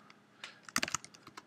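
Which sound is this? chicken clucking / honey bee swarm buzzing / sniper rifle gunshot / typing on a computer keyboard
typing on a computer keyboard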